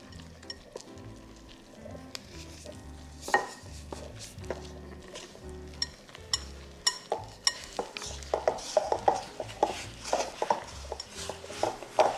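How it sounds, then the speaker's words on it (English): Garlic knot dough mixture being stirred in a bowl, soft scraping and knocking of a utensil against the sides that grows busier and more rhythmic toward the end, close and fairly quiet, without speech. "I'm just gonna stir this and see how much gets absorbed"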